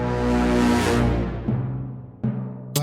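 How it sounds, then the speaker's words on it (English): Brass swell from a sample library, pitch-bent downward and time-shortened so it slides and fades quickly, followed by two short brass stabs near the end. "this brass swell right here actually came from the libraries"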